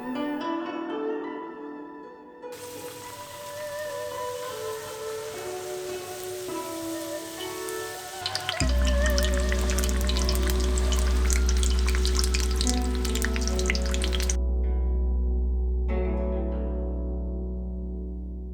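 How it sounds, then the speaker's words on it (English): Nepali vegetable momos deep fry in hot oil with a dense, even crackle like rain on a surface, heard under loud background music that grows heavier partway through. "get ready to deep fry the momos"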